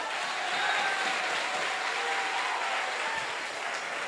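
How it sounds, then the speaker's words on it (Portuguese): A church congregation applauds during a Sunday worship service, producing a steady, dense wash of clapping that holds at an even level for about four seconds with no voices over it. "Pode aplaudir o Senhor."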